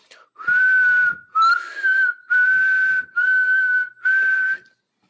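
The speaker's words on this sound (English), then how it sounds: "I can whistle in and out." Loud, steady tonal whistling in six sustained notes separated by short gaps, alternating as breath goes in and out, close to the microphone.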